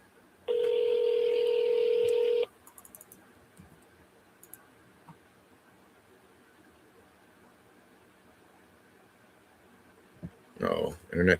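Telephone tones for an outgoing call: a steady, loud dial tone for about two seconds, then faint clicks over a quiet line, and short bursts of voices near the end.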